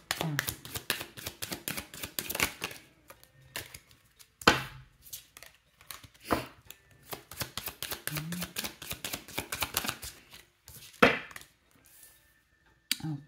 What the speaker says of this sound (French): Je vous tire quelques cartes.